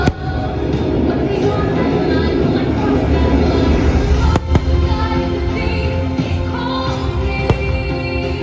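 Magic Kingdom's Happily Ever After fireworks show booms and crackles continuously, with several sharp loud bursts standing out over a dense wash of distant explosions and crowd ambience.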